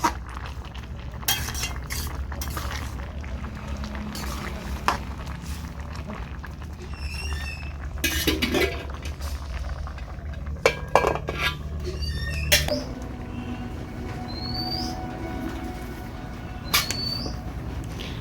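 A lid lifted off a cooking pot of boiling bottle gourd clinks and clatters against the metal a few times, close and fairly quiet, amid light kitchen utensil sounds.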